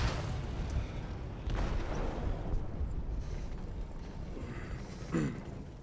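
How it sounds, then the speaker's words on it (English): An explosive detonates in a ship's hold in Detroit: Become Human, heard as a deep, sustained rumble that rolls on for several seconds at moderate level with no clear sharp peak. "They detonated an explosive in the hold."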